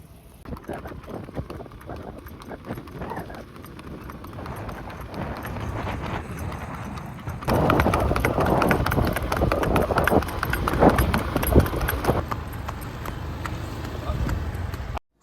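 A mare and her young filly are out on a ride, their hooves keeping up a steady clip-clop that grows louder and busier midway, with voices talking over the hoofbeats.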